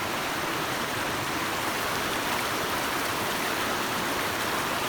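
River water rushes in a steady, loud, unbroken flow in Davao, a close and even wash of noise with no voices.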